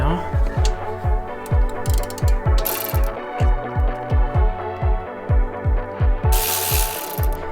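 Ratchet clicks rapidly and rhythmically as a bolt is loosened while a Subaru turbo downpipe is being removed. The ratcheting runs in repeated bursts, close and loud, with a couple of brief hissy bursts between strokes and no talking.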